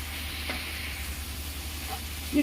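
Coriander powder roasting in a pan gives a faint, steady hiss and sizzle, with a couple of quiet utensil taps, one near the end.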